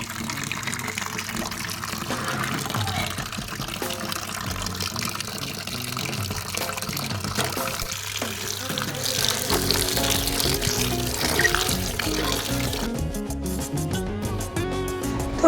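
Water running steadily while vegetables are washed, a continuous splashing pour that grows slightly louder and busier toward the end.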